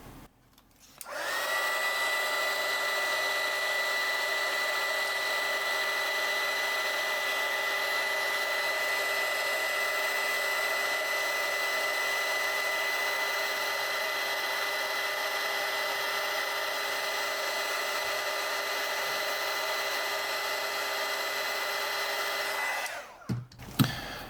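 A heat gun blows steadily for over twenty seconds as it shrinks heat shrink tubing onto the connector of an EFRW random wire antenna, a loud, even, close airy whoosh with a constant motor whine that switches on and off cleanly.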